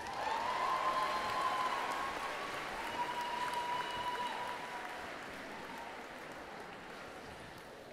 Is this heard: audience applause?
yes